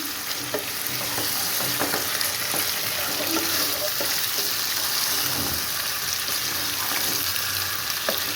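Chicken pieces sizzle steadily in a frying pan over a low gas flame while being stirred and turned with a spoon, giving a continuous close hiss with scattered scraping clicks.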